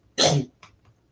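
A single sharp cough up close, followed by a couple of softer, shorter throat sounds trailing off.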